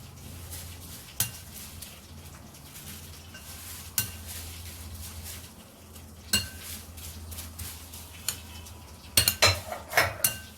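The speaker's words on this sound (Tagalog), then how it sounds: "So just mix it all together so that it will incorporate with each other." A utensil stirs and scrapes furikake ingredients and toasted nori in a bowl, with soft rustling and occasional sharp clinks against the bowl. A quick cluster of clinks comes near the end, close and moderately quiet.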